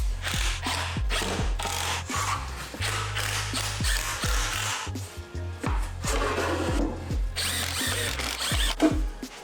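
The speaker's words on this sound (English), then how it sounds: "Then I can attach those sides to the framing timber by pre-drilling and countersinking first so the screws don't cause any splits and sit flush into the plywood." A power drill pre-drills and countersinks plywood onto framing timber, with repeated short bursts of motor whine and grinding bites into the wood, close and loud, separated by brief pauses.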